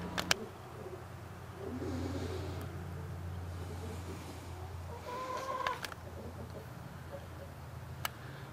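A rooster clucks and makes short calls outdoors over low rumbling background noise, with a few sharp clicks scattered through.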